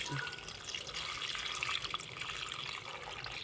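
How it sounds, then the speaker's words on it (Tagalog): Water from a tap pours into a cooking pot of chicken for sinampalukang manok, a tamarind-soured Filipino soup. The stream is steady and soft, with faint splashing and no talking. "Yan, lagyan natin tubig."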